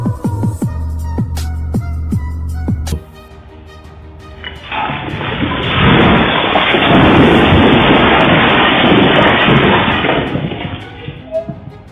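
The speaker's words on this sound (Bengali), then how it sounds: "একটি গাড়ির উপর হঠাৎ করে বজ্রপাত পড়ল" A lightning strike hits a car during a storm, followed by a loud, sustained rumble of thunder that builds and rolls on with heavy rain noise. The early part carries sharp, ringing tonal clicks over a low drone.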